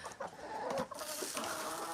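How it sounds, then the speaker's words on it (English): Chickens cluck in short, close bursts, a busy scatter of hen calls over two seconds with no voices. "Just taking care of these ridiculous chickens"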